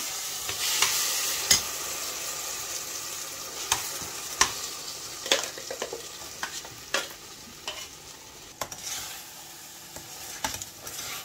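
Ground paste frying with sautéed onions for an eggplant curry gives a close, sizzling hiss broken by repeated scraping stirs from a spoon against the pan, irregular and fairly loud, with no voices.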